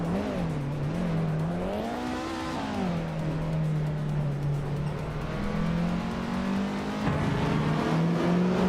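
A 1971 Mercedes-Benz 300 EL in a racing video game, engine droning steadily at a sustained pitch with small rises and dips, a brief climb mid-run and a gear shift near the end, loud and continuous.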